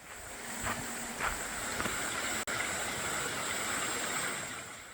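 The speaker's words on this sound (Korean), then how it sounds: "저 아래쪽에서 계곡 물소리가 들립니다." An upper mountain valley stream flows below a forest trekking trail near Seoul, heard as a constant faint broadband rush with a brief dropout midway.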